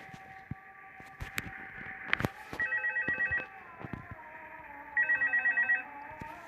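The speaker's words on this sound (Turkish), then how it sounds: "Şu telefon sesini kapatalım." An electronic telephone rings in the video game Five Nights at Freddy's 2, two bursts of rapid trilling pulses, with scattered clicks and thumps between rings and a low hum beneath.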